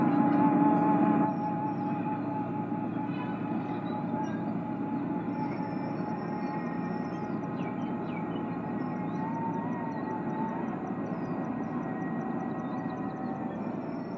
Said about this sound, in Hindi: उसके ऊपर से ट्रेन गुजरते हुए लाइव आपको दिख रही है।